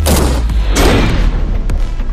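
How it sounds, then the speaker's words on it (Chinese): A WWII-era M1 Garand rifle is fired at a Russian bulletproof shield, giving a loud, close blast with a sharp impact and lingering echo, then a second sharp crack near the end. "下面拿出二战时期的传奇武器 M1 加兰德步枪"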